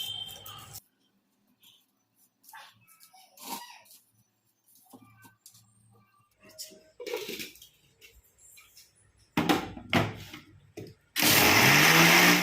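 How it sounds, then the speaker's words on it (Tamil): A kitchen blender grinds bread into breadcrumbs in one loud burst at the end, after scattered quiet clatter and handling sounds. "ப்ரெட் க்ரம் விட்டு அரைச்சாச்சு."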